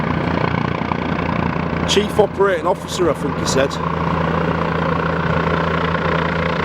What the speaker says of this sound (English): we've seen the helicopter take off, we've seen the helicopter landing